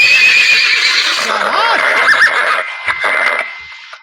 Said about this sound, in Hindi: घोड़ा तैयार है?